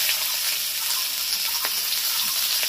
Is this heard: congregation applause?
no